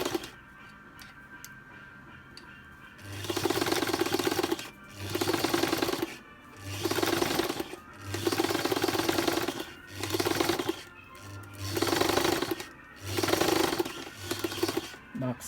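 Sewing machine stitching a fabric bodice on a tabletop, running in regular bursts of about a second with short pauses between, a steady mechanical whirr and rattle heard close up.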